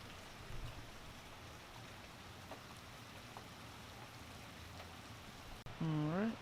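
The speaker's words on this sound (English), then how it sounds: "The rain, kind of intermittent, if you will, Mitzi." Steady rain falls during a tropical storm, a faint, even hiss of drops with no breaks, briefly joined near the end by a short tonal sound.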